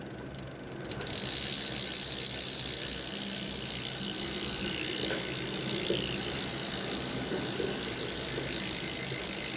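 A 12-speed bicycle cassette and derailleur drivetrain on a Top End Force-RX ratchets continuously as the crank is turned, with a fast, even freewheel clicking close up after a brief quieter start, no voices.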